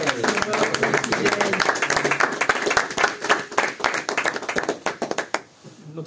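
Church congregation at a worship service applauding: dense, rhythmic clapping from many hands, steady and close for about five seconds, then thinning out. Voices are faintly mixed in.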